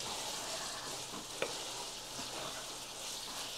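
Lemongrass and chilies frying in a hot pan for a home-cooked Tết family dinner, a steady close sizzle with one sharp pop or stir clink partway through, no voices.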